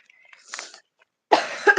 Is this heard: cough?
yes